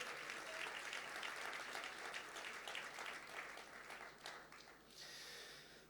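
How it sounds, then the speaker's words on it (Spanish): Church congregation applauding in praise of the Lord during a sermon on Philippians, a faint, sustained patter of many hands clapping from a distance, thinning slightly toward the end. "Fuerte ese aplauso de alabanza al Señor"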